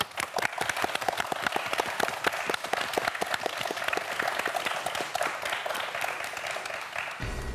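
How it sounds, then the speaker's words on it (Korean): A studio audience applauds quiz show contestants, a dense patter of clapping that holds steady and loud for several seconds before cutting off abruptly near the end. "오늘 멋진 도전을 보여준 네 학생 모두에게 큰 박수 부탁드립니다"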